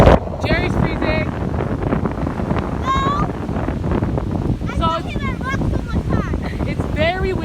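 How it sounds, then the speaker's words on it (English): Strong wind buffets the microphone at a cold beach with hard surf, a loud, continuous roar that runs under people talking throughout. "It's very windy here"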